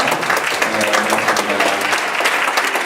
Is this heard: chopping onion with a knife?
no